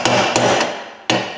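Hammer tapping a large axle nut socket onto the spline during a Chevrolet front differential setup: four sharp metallic strikes, close and loud, with a short ringing decay after each blow.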